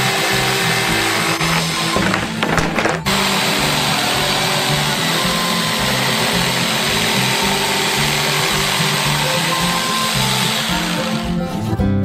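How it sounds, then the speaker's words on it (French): An electric jigsaw cuts out a giant Bounty bar shape, a loud, continuous buzzing motor whine with a rapid blade rattle that runs steadily throughout, close up. "Il reste à la découper avec une scie sauteuse électrique."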